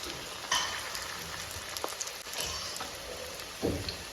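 Bonda batter frying in hot oil, a soft, even bubbling hiss punctuated by a few faint clicks and pops.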